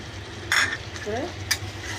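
A spoon stirs beef with carrots and green chillies in a pan, short scraping and sizzling bursts over a soft background of frying.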